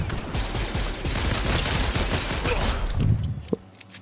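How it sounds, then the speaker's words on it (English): Continuous clone trooper gunfire in Fortnite, a dense crackling volley of rapid shots at mid distance that tapers off near the end with one last sharp shot. "Is that another clone trooper or is that a person shooting?"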